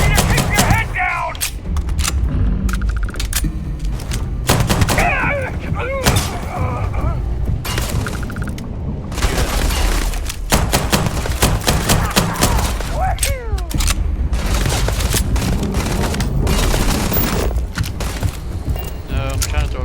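Dense gunfire and grenade blasts in the video game Starfield, rapid bursts and heavy booms continuing nonstop and loud throughout, with excited talking over the combat.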